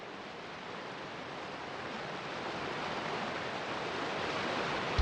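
Rushing waterfall in the VR role-playing game Vengeful Rites, a steady, dense roar of falling water that swells slightly louder toward the end, with no voices over it.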